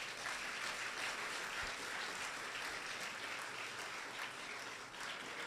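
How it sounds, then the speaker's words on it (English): Sustained audience applause fills a hall at a college open day and STEAM labs launch, a dense, steady wash of many hands clapping, loud and even throughout. "Put your hands together."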